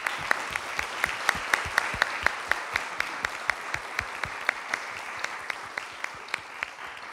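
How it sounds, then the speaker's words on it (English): A small audience applauds the moderator and panel at a lunch-and-learn event, with sparse, distinct claps in an uneven rhythm that stay fairly steady for several seconds. "Please join me in giving them a big round of applause."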